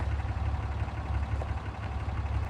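A loud truck engine drones steadily while the vehicle drives through a wildlife refuge, a close, low, unbroken rumble with no talking.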